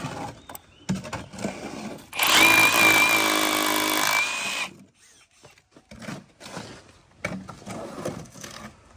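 A power drill bores holes in a wall to mount an outdoor socket during homestay electrical wiring, one loud steady whirring burst of about two seconds, with quieter handling noises and short bits of speech before and after.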